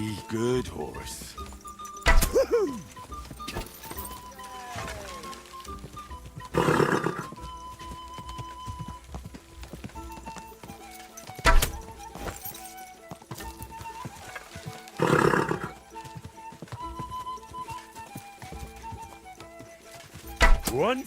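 Horse in Kingdom Come Deliverance 2, neighing several times in loud bursts over scattered hoof clops and game ambience, with someone talking to the horse in between.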